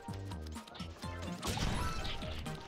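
Objects break in Super Mario Odyssey, with a sharp crash in the middle over repeating rhythmic game music, moderately loud, with no talking.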